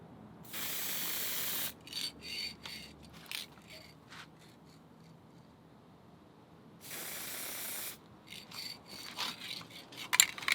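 Two separate spray bursts from a paint can or gun hiss for about a second each as another coat goes onto an Epiphone guitar headstock, with quiet handling clicks and rustles between them.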